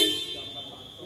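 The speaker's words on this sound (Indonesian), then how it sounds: "Klakson standarnya bunyinya seperti ini." The stock horn of a Mitsubishi Pajero Sport gives one short, steady toot at close range, fading quickly.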